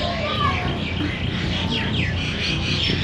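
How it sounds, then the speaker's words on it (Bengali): Various birds, including doves, call from trees in an Assam village near a river, with scattered chirps and tweets at a moderate distance over a constant outdoor background. "ঘুঘু সহ বিভিন্ন ধরনের পাখির ডাক শুনতে পাচ্ছি"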